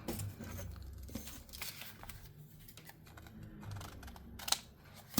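A strong paper envelope is torn open by hand during scrapbook board making, giving a rough, crinkly ripping texture through most of the clip with a few sharp snaps near the end.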